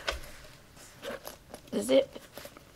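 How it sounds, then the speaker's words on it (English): A zipper is pulled open on a large PU fake-leather pencil case in a few short, close scratchy bursts, with a voice speaking quietly between them. "Oh no, the zip gets tucked in there"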